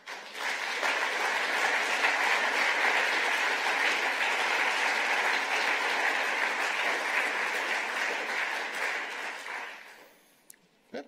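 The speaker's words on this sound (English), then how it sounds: "Was a rather long applause." Sustained, dense audience applause at an economic policy conference on the European economic union, loud and steady for about ten seconds before quickly fading to near silence.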